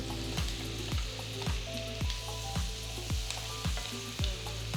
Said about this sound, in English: To the pan, add 100 grams of unsalted butter.